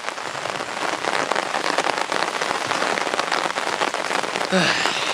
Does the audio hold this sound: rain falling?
yes